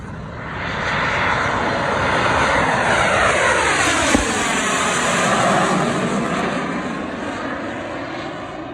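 A propeller airplane engine drones steadily, swelling as it passes overhead and then slowly fading, with no voices.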